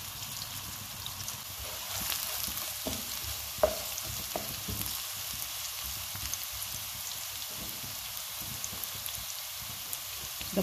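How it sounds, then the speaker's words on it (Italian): Onion softens and fries in a pan, a steady close hiss of crackling oil with fine popping that runs throughout, broken by a few louder clicks and taps, with no one speaking. "Lascio appassire la cipolla per un minuto."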